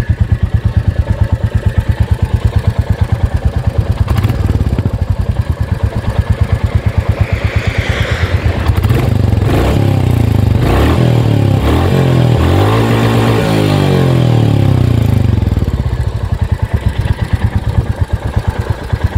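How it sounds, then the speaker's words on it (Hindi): A Royal Enfield Classic 350 motorcycle idles with a steady thumping exhaust beat, then revs up in several rising blips before settling back to idle, loud and close with no talking. "तो एक बार इसका एग्जॉस्ट का साउंड सुनते हैं हम।"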